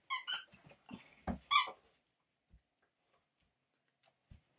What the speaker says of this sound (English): my dog, of course, is now playing with the toy